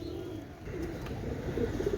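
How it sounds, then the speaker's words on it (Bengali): Pakistani chuha pigeons, a running pair, coo softly at close range with low, repeated throaty calls over a quiet background. "এটা হচ্ছে পাকিস্তানের চুহা কবুতর রানিং পেয়ার"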